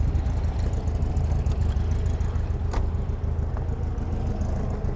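Engine of a 1963 VW Beetle tuned to about 120 hp, running at a steady low rumble heard from close by, with one brief sharp click partway through and no speech.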